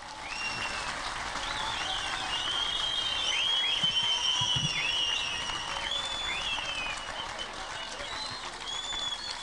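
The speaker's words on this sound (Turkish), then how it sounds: "Alkışlar olsun hocamıza." A crowd gathered at a traditional commemoration and cultural festival applauds steadily as a teacher walks in, the clapping fairly distant and continuous, with birds chirping above it and faint voices underneath.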